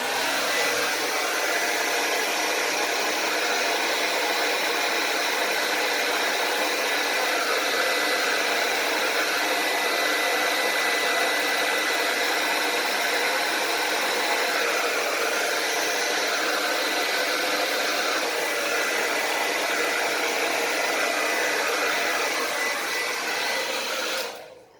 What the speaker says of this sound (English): I'm gonna use the blow dryer again.